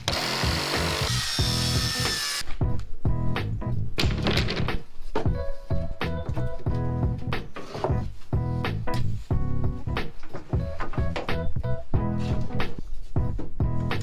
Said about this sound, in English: So I'm going to cut the little notches in the springers.